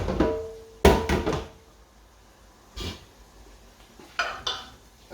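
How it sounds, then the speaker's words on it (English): Clattering of a metal pan and utensils in a sink as the pan is rinsed with boiling water from a kettle, a few sharp clanks and knocks separated by quieter gaps, close by. "just rinse the pan."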